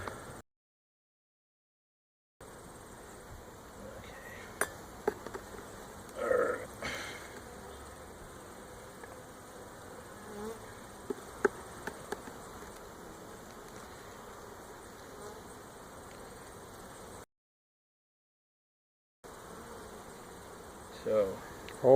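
Honey bees hum steadily in an opened hive as a beekeeper searches the combs for the queen, a close, continuous buzz with occasional clicks and handling knocks and brief gaps of silence.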